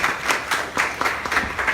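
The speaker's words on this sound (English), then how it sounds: "Please give her a round of applause." Audience at a blockchain meetup in the Philippines applauds as the moderator is introduced: a short burst of distinct, fairly close claps from a modest crowd, with an uneven rhythm.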